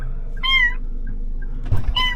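A cat meowing twice, clear and close: one drawn-out mew, then a short pause with a soft rustle before a second meow starts.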